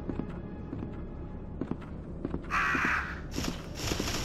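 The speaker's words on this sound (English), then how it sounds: "I think we have to go back through the crows" Crows caw in Resident Evil 2 on the PS1, with a burst of harsh, loud calls in the middle and more cawing near the end. Light footsteps and thumps run underneath.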